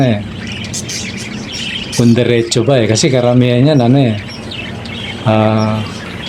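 Bright bird chirps and tweets repeat in short bursts near the microphone, while a person talks loudly over them.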